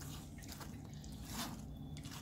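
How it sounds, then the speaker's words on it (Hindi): Water poured over tamarind pulp and seeds, dripping and squishing steadily into a bowl, a close, continuous wet trickle with no talk. "ये देखें सारा पानी डाल के जो है अब ये गुठली बिल्कुल साफ़ हो गई है।"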